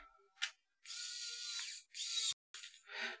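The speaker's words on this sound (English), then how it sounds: "So we'll flip this back around. Put the screws back in." Small screws being driven back into the plastic shell of a Miyoo Mini Plus handheld game console, heard as a few close, quiet bursts of fine ratcheting and clicking with brief pauses between turns.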